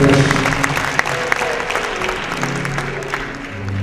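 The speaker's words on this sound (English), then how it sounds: "Come on, keep clapping" Sustained applause from an audience at a Martin Luther King Day celebration fills the room, a dense steady wash of many hands clapping with a few sharper claps standing out.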